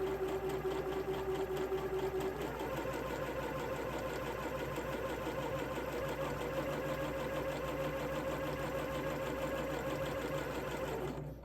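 A sewing machine stitching forward and back through wool fabric with a regular presser foot, running as a steady, fast mechanical whir and chatter that continues unbroken and close before stopping at the end.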